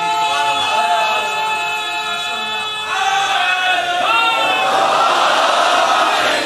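A congregation at a Muharram majlis in an imambargah chants back in response to a slogan, a loud, sustained, many-voiced swell of sound that fills the whole stretch.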